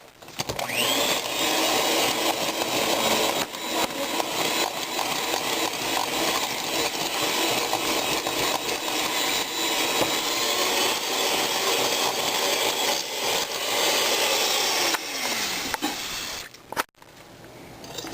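Stand mixer creaming red velvet cupcake batter with added vanilla, a loud continuous motor drone that runs steadily for the whole stretch and cuts off abruptly near the end.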